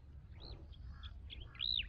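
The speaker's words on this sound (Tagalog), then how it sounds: "Ayun, mukhang may gustong makipag-join na uwak ah." A crow calls a few times in open countryside near sugarcane fields, faint, distant caws over a steady low hum of wind and drone noise.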